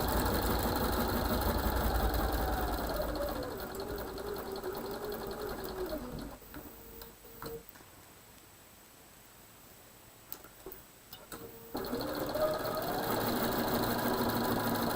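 A sewing machine stitches quilt block pieces together in a steady mechanical whir, close and loud, slowing and pausing midway before running again at full speed to the end.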